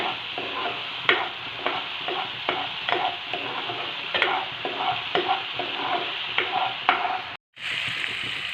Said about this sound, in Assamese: ভালকৈ ভাজ নোখোৱালৈকে সৰিয়হখিনি মই ভাজি ল'ম।